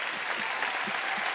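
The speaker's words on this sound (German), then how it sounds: "du merkst, das Publikum tobt" A crowd applauding at the Cologne carnival on 11.11, steady broad clapping from a large audience, loud and continuous, with faint low voices or cheers under it.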